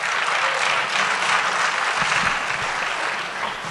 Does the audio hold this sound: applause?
yes